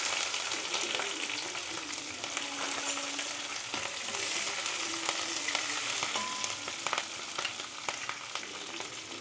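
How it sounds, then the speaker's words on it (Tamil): Green chillies and dried red chillies hit hot oil for rava semiya kichadi, a continuous crackling sizzle with occasional spoon stirs, close but fairly quiet, no voices. "பச்சை மிளகாயும் வர மிளகாயும் போட்டுருவோம்"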